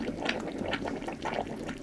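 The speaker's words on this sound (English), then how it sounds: "it only takes a few seconds to boil water" Water boiling in a small vessel heated electrically by a battery, a close, steady bubbling hiss with crackling pops, fairly quiet and alone.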